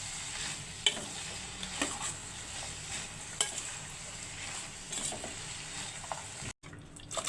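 Ingredients sizzle and fry in a pot as a spoon stirs them, a steady hiss broken by scattered clinks and scrapes, fairly close and with no talking.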